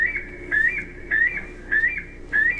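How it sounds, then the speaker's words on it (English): Weka, a flightless New Zealand bird, giving repeated shrill whistling calls, each a rising upslurred note, spaced roughly every half second in a steady rhythm, clear and fairly near over a quiet background. "this is a Weka here. This little bird, it's a flightless bird"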